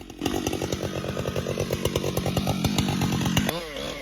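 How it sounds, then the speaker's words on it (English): Chainsaw boring a notch into a heavy log, its engine snarling steadily close by with rapid pulsing revs before cutting out near the end. "And now he's boring a notch that's in line with that heart crack."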